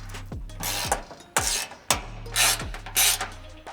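Ratchet working bumper bolts tight on a Cybertruck during a bolt-on front bumper install, bursts of close clicking and rasping strokes in a quick uneven rhythm, with sharp metallic knocks between them.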